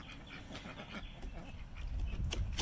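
Ducks and drakes fighting over females in a backyard duck yard produce a steady, close jumble of quacks and scuffling that grows louder toward the end.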